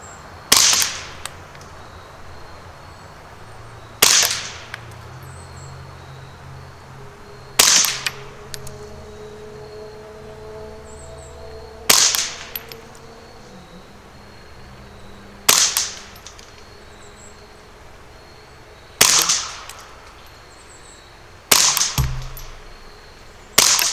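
Norma TAC-22 rimfire rifle fired at a 50-yard range: eight sharp, loud cracks spaced several seconds apart, each with a short decay, and a quiet gap between shots.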